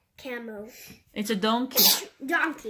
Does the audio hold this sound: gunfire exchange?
no